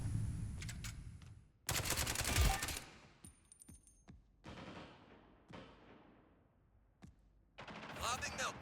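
Gunfire in the tactical shooter Spectre Divide, bursts of close rapid shots separated by quieter gaps, with scattered single cracks and a final loud burst.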